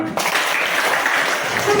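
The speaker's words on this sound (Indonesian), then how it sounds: "Tepuk tangan." Schoolchildren in an Indonesian classroom clap for their class leader, a dense, steady patter of hands lasting a couple of seconds, close and fairly loud, with a teacher's voice briefly heard at the start.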